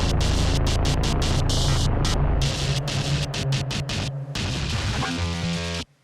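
Dense, heavy DOOM-style metal built from free plugins, with pounding distorted low riffs, abrupt stop-start gaps and a sustained tonal tail, loud and continuous before cutting off.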